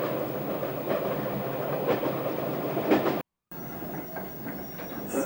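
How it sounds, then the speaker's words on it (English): A coal train passes on the railway with a steady, fairly close rumble and rhythmic wheel clatter. The sound runs continuously, broken once by a brief cut, and no one talks. "Coal train coming other way."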